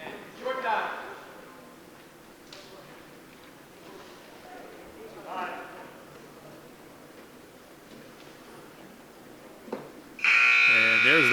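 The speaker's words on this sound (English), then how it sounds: "There's the buzzer for the end of the first bout" A loud electronic buzzer sounds at the end of the first bout of a high school varsity wrestling match, a sustained harsh tone cutting in abruptly after a stretch of commentary and gym crowd noise.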